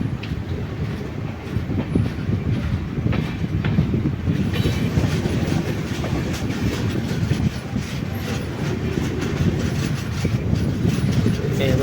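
The Raptisagar Express rumbles steadily along the tracks near Haripad station in Kerala with a rhythmic clickety-clack of wheels, heard from inside a carriage, continuous and moderately loud.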